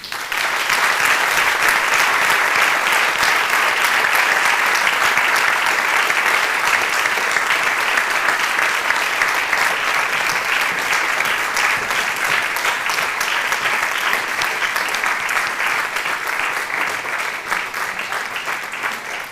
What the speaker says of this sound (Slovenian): Najprej bomo glasno zaploskali gospe Veri Kodrič